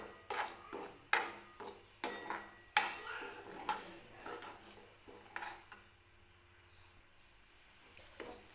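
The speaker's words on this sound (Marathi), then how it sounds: "हा रवा जो आहे तो तूप किंवा तेल न टाकता भाजून घ्यायचा" A spoon stirs semolina as it dry-roasts in a pan without ghee or oil, producing a series of sharp metallic scrapes and clinks at an uneven rhythm. The sound is close and fairly quiet and thins out toward the end.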